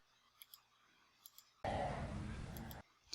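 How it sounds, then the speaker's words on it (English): A single breath of about a second, broadband and airy, close to the microphone in an audio recording, with faint clicks before and after it. "So that's a breathing noise."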